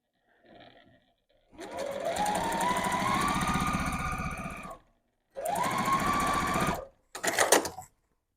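Sewing machine stitching fabric for quilting, pivoting with the needle down at corners, runs in two steady bursts of several seconds each, then a short choppy third burst, loud and close with no talking.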